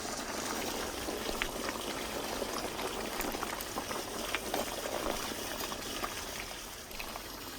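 Steady, close bubbling of a thick beef rib and vegetable stew simmering in a pot, continuous and even throughout with no voices.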